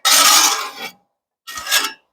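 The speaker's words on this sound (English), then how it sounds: "Take my scraper here and give it a nice even coating." A metal scraper rasps across a hot cast iron skillet, spreading high-heat oil in two close, harsh scraping strokes separated by a brief pause.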